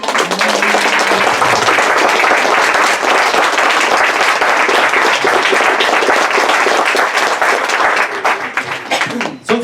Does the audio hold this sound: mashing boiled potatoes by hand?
no